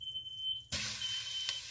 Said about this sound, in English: I got the fire alarm going off, y'all.